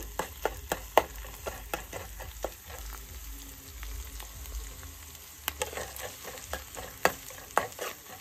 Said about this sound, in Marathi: तर जरा कांदा आपला गोल्ड कलर होऊ दे, एकदम करपू दे थोडा